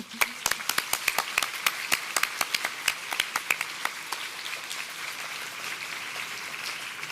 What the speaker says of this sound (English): We can also give them an applause